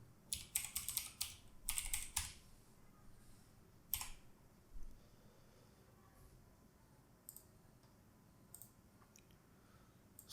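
Computer keyboard typing, short clustered bursts of quick clicky keystrokes near the start, then a few isolated clicks against a quiet room background.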